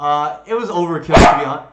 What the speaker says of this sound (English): That's my dog Blue.